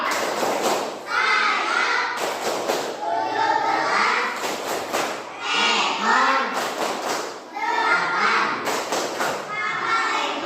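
A class of children performs the Tepuk Garuda clapping routine, with rhythmic bursts of group claps alternating with loud chanting voices in a busy classroom.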